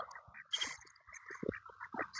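Ducks quack in short, scattered calls at close range on a river walk where people feed them, the calls faint against a quiet background.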